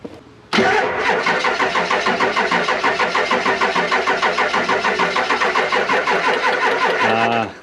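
A Ford 7.3 Powerstroke diesel engine starts abruptly and settles into a loud, steady, rhythmic clattering run close by for several seconds before cutting off at the end, with no voices.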